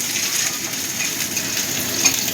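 Onions and black peppercorns fry in a pan for butter garlic chicken, producing a steady, close sizzle with soft crackles and no break.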